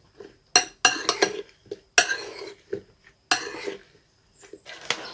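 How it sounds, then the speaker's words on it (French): A strawberry salad being stirred with chilled mint syrup in a bowl: a string of clinking, scraping utensil strokes against the dish, close and fairly crisp, with short pauses between bursts and no talking. "On mélange bien."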